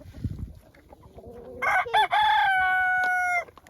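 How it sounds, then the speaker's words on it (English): Chickens at a winter coop: soft clucking and scratching, then a big rooster lets out a loud, close crow that rises and holds for nearly two seconds. No one speaks. "That big rooster."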